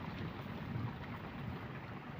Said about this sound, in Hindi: आज सुबह से इतनी बारिश हो रही है कि रुकने का नाम ही नहीं है।